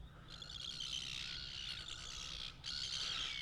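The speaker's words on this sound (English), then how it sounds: "He's flying off with it and the seagulls are going nuts" Seagulls call over the water at Lake Hume in winter, a busy, overlapping chorus of squawks and cries, moderately loud and continuous, with a brief lull near the end.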